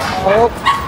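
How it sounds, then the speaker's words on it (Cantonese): Several dogs bark and yip in quick bursts, close by at a pet park, mixed with a whimpering tone. "勁多狗吠聲，我哋隻狗都把持唔住。"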